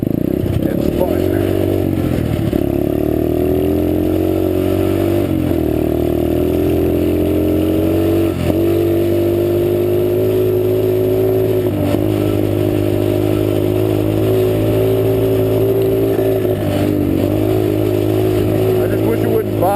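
A pit bike engine runs steadily and loud throughout, revving up and then bogging down in a few repeated surges, with a rough, strained tone.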